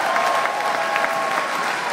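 An audience applauds a speaker who has just turned 71, loud continuous clapping carrying on evenly throughout.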